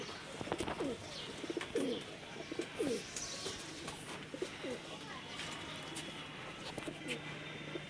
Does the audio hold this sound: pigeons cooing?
yes